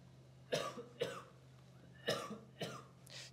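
Four separate coughs from a Go player in a quiet tournament hall during a Samsung Fire Cup world Go masters qualifying match, spaced irregularly over a few seconds, fairly close and clear against a low steady hum.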